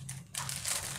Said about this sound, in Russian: Сам не знаю, какой-то пакетик.